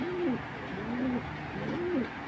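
A male pigeon of an imported fancy breed coos to a nearby female, two drawn-out, close rolling calls separated by a brief pause, with no talking.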